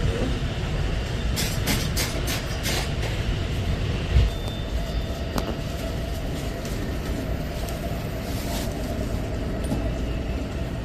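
An Amtrak passenger train rolls steadily along the rails between Memphis and New Orleans with a constant low rumble and rattling, with a few brief clanks and a faint bump partway through.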